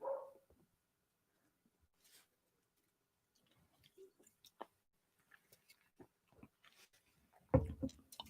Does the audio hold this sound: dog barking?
yes